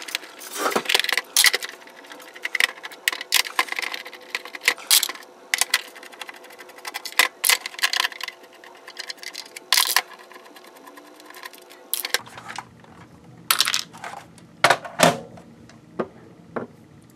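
Screws come out of a Nintendo 64 console with a 4.5mm Gamebit screwdriver. Close, irregular clicks, ratchety rattles and light plastic taps sound in quick bursts, with brief pauses between, on a quiet background.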